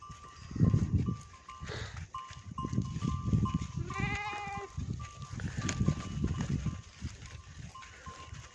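Several Karaman ewes bleat at intervals over a steady background hum while grazing in a wheat field, with a few calls rising clearly above the rest, close by.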